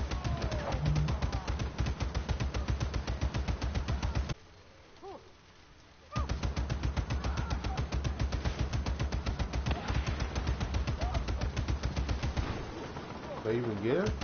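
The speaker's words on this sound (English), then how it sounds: "Start shooting." Continuous rapid automatic gunfire in Just Cause 3 rattles on for long stretches, stopping for about two seconds partway through, dense and close.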